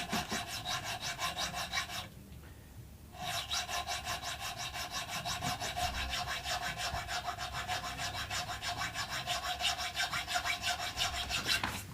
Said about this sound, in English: I'm grabbing a little square file because I don't have all of my tools.